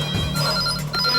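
A telephone ringing with a bright, sustained electronic tone that repeats in short bursts, close and fairly loud over a low hum, brief and without speech.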